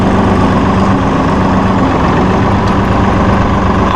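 A Massey Ferguson 2604H 2wd small-chassis utility tractor with a Tier 4 final Simpson diesel engine runs close by, giving a steady, even drone with no break and no talking.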